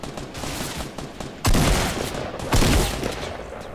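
Gunfire in the video game Fortnite: two loud, sharp bursts about a second apart, each ringing out over a busy background of game noise with no talking.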